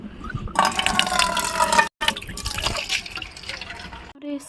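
Water pours and splashes into a bucket, a loud gushing fill with a brief break midway, then continuing more softly, with faint voices nearby.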